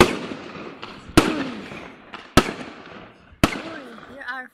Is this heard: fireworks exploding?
yes